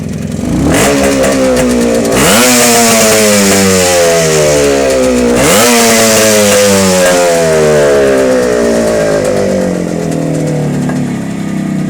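A Suzuki T500 two-stroke twin, troubled by a carburettor fault, runs loud and rough throughout, its revs rising and falling unevenly in surging sweeps with a raspy, buzzing exhaust note and no talking.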